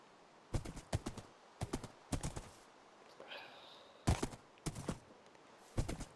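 A horse in Minecraft clip-clops along in short bursts of crisp hoof clicks, grouped in quick runs of three or four steps separated by brief pauses, fairly quiet and with no other sounds.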